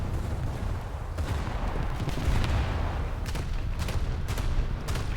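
Naval ship guns fire in War Thunder, a steady low rumble with repeated muffled booms and cannon reports spread across the stretch, dense and continuous battle noise with no voice over it.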